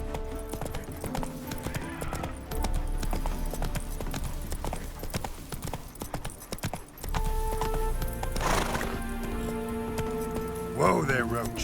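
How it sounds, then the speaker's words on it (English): Roach, a horse in The Witcher 3 video game, gallops with steady clip-clop hoofbeats under game music, and a neigh or whinny rises near the end while a voice talks over it. "Whoa there, Roach."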